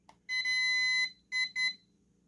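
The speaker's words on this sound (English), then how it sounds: "Those 2 beeps, that means you are paired." A remote control pairing with an HS700E drone emits electronic beeps: one long tone followed by two short ones, clear and close in a quiet room.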